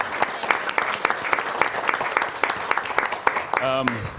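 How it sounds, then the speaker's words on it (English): City council meeting audience clapping, a full room of hands in a steady dense burst, with a voice briefly speaking near the end as the applause continues. "let's clap on this one too"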